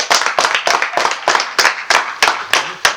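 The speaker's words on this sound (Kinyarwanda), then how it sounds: "twabaha ikaze n'amashyi menshi" A crowd claps to welcome arriving guests in loud, sharp bursts, about ten distinct swells of hand claps pulsing in a loose rhythm one after another.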